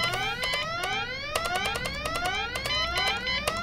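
An alarm siren in the video game Goodbye Deponia sounds as a loud, repeating rising electronic wail, layered with rapid sharp beeps, continuous throughout.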